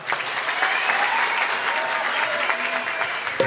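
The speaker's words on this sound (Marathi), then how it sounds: "सर्वांनी जोरदार टाळ्या वाजवा" Loud, dense audience applause fills the whole stretch at a Guru Purnima gathering, a steady crowd clapping close by with no pause.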